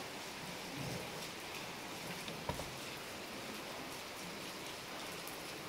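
Summer rain falling steadily in a soft continuous hiss, even and moderately close, with one brief knock partway through and no voices.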